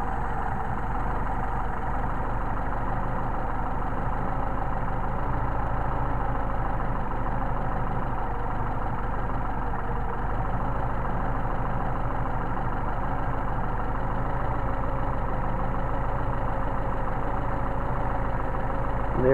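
A Mercedes 190SL engine idles steadily with Solex carburetors under adjustment, a constant, even mechanical drone held at close range throughout with no talk.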